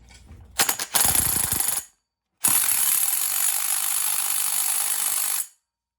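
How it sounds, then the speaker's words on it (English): An impact wrench fires on the flywheel nut of a Predator 224cc small engine, a short hammering burst, a pause, then a longer sustained loud rattling run that cuts off abruptly. "I don't have shit to tighten it up, so impact, tight as it can go"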